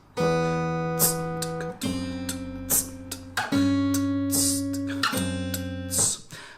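Guitar plays two interlocking parts of a theme at once, a repeating pattern of low sustained bass notes with higher notes picked in between, clear and close.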